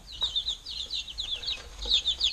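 Young chicks still in their downy chick coats make soft, high peeping chirps. The calls come in quick repeated clusters at close range over a faint background.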